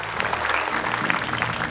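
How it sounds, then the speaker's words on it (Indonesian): Applause sound effect from an Indonesian TV comedy show, a steady burst of crowd clapping throughout the short stretch at moderate level, with a faint low hum underneath. "Kalau ada suara tepuk tangan, berarti ada suara yang masuk"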